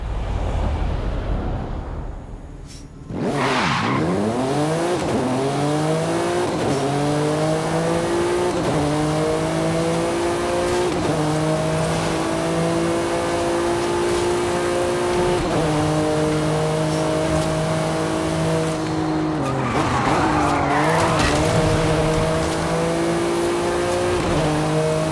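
A 2017 Acura NSX drifts in Forza Horizon 5, its engine droning and revving through rising and falling pitch sweeps, with tire squeal mixed in and a sharp rev burst near the start.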